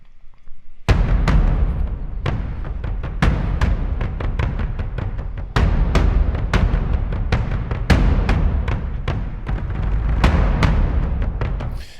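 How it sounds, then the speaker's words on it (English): Epic cinematic percussion from the Spitfire Hans Zimmer Percussion library, a loud, booming sequence of deep drum hits in a steady driving rhythm with accented strikes, dense and reverberant throughout. "we're using the Spitfire Hans Zimmer percussion all the way through."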